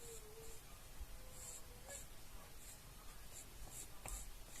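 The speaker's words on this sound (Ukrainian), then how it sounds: "Ми малюємо ніс." A pencil or marker scratches in short strokes across paper while a nose is drawn on black paper for a polar bear craft, the faint scribbling repeating in irregular bursts in a quiet room.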